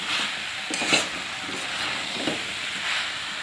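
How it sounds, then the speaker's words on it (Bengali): Fried potatoes being stirred into a pan of raw pea ghugni, a steady close sizzle and hiss with a few soft stirring scrapes throughout. "ভেজে রাখা আলুগুলো দিয়েও না আমি একটু ভালো করে নেড়ে চেড়ে ভালো করে একটু কষিয়ে নেব"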